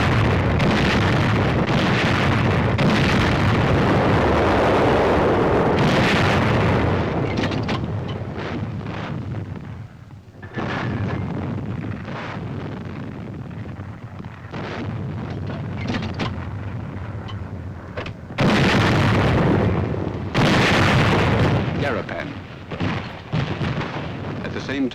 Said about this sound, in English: Army artillery goes into action.